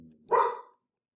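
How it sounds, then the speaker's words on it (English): A single dog barks once in the background, a short mid-pitched bark standing alone in an otherwise quiet room. "we're getting a little doggy commentary in the background"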